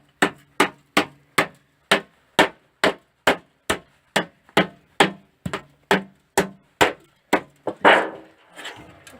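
Steady hammer blows drive a nail into a hole in wood at a cabin in the woods, about twenty sharp, close strikes in an even rhythm, ending with a heavier, scraping knock and a brief rustle.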